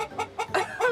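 A rooster clucks in straw, giving four or five quick, close, raspy clucks in an even rhythm, with nothing else heard.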